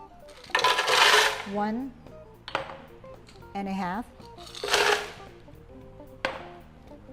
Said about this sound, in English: So once again, let's put our ice.